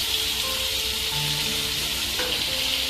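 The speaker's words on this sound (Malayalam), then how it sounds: "ഈ സ്പൈസസിലേക്ക് നമ്മൾ കുക്ക് ചെയ്യാൻ ചിക്കൻ ആഡ് ചെയ്യാണ്." Masala-marinated chicken hits hot spices in a pan for chicken kabsa, giving a loud, steady sizzling hiss that runs unbroken throughout, with no talking.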